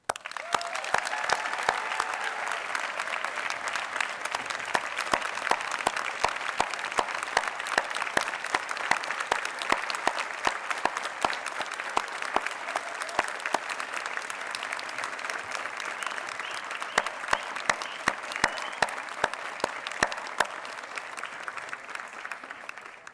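Audience applause fills a graduation ceremony hall at San Francisco State, a steady dense clapping from a large crowd that holds evenly for over twenty seconds with no talking.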